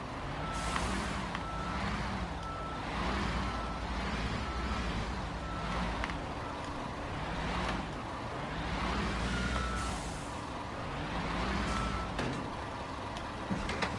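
Tractor truck backing up to hitch a trailer in Construction Simulator, with steady engine rumble and repeated reversing beeps, a hiss like an air brake, continuous and fairly loud.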